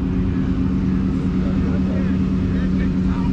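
A supercharged Roush Mustang roars through a burnout at a Mustang car event in Iowa, its engine a loud, sustained droning rumble with a whining blower tone, while people talk over it.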